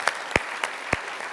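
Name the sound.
audience applause for Tia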